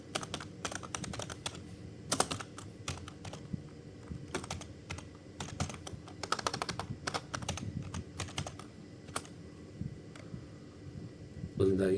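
Someone types a command on a computer keyboard, a run of sharp, irregular key clicks close to the microphone, some quick bursts and some isolated taps, with a voice speaking at times.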